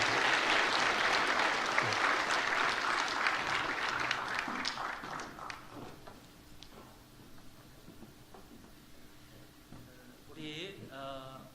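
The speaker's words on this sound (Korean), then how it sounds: "박수로 축하하시겠습니다." A church congregation applauds in a big sustained round of clapping that gradually thins and fades, leaving some faint room noise and a brief voice near the end.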